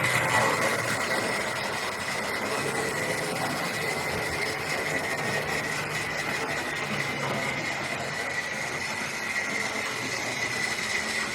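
A Hornby OO-gauge model of a GWR Churchward locomotive runs steadily around the track, giving a continuous mechanical hum and whir with faint rail rattle, moderately close and with no talking.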